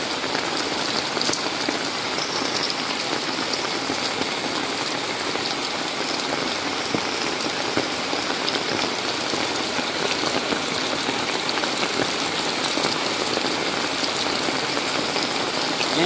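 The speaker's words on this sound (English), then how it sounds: "they don't like to see this type of rain" Heavy rain pours down steadily during the Philippine rainy season, a dense, continuous hiss of drops on surfaces close by, with no break in intensity throughout.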